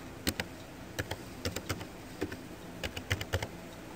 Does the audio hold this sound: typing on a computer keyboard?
yes